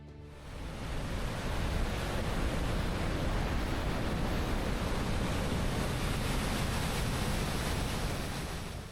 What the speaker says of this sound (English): You really get to appreciate the force and the power of the water.